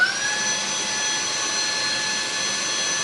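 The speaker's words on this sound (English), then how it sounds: "So here's the Wyze Handheld Vacuum in normal mode." A Wyze handheld vacuum running in normal mode, a steady close whirring motor drone with a high whine, holding constant throughout with no voices.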